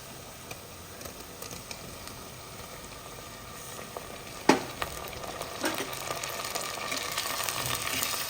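Tomatoes frying in a pot for a Bengali mutton curry, a steady soft sizzle with occasional clicks and scrapes from stirring, one sharper knock midway, no voices.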